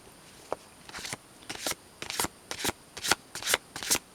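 Maasai oracle cards are shuffled by hand in repeated riffling bursts, about a dozen crisp, close swishes that grow denser and louder toward the end, with no voices.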